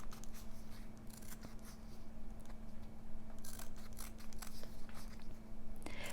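Scissors snipping washi tape for a traveler's notebook journal, a series of small crisp cuts scattered over a steady low hum, close and fairly quiet.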